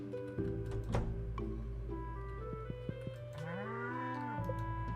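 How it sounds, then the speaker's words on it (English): A cow moos in the Stardew Valley farming game, a long low call rising and bending over light background game music and small sound effects, steady and fairly close. "Daisy's an actual cow now."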